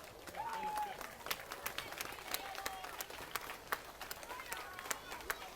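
Audience applause breaks out at a robot folkrace final, scattered claps and crowd noise mixed with a voice and whirring sounds from the race.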